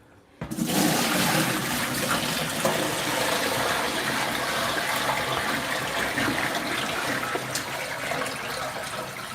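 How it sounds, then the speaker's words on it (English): Aquarium water poured down a sink drain during a marine tank setup starts abruptly after a brief quiet moment, then gushes and splashes loudly and steadily for about nine seconds with no voices. "pour this water down the drain"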